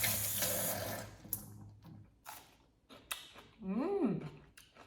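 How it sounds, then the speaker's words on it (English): Brined cabbage being rinsed under a tap comes through as brief splashes and running-water gurgles, close and moderately loud, broken up by short pauses and handling sounds. "So rinse 1 piece and test your cabbage."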